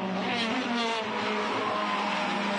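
A small 1600cc Toyota race car running in a 12-hour endurance race at Hampton Downs, its engine a steady, droning note under a constant roar, with no speech.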